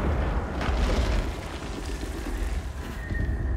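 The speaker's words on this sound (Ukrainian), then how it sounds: "Ні, це просто вибух був." A deep, rumbling boom of a video game explosion in Alone in the Dark swells and lingers as a low roar, with no speech.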